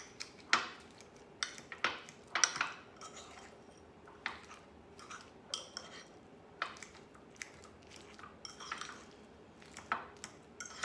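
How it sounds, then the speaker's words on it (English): A fork mashes guacamole dip mix in a bowl, giving a series of soft, irregular squishes and scrapes with occasional clicks of metal against the bowl, close and quiet. "I'm just gonna take a fork and mash it up"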